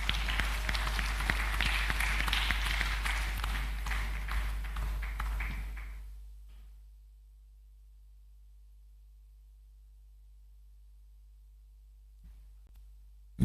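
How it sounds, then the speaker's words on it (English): Applause for an inductee at a university convocation ceremony, a crowd clapping loudly for about six seconds before it cuts off and fades to near silence. "Please a round of applause for him."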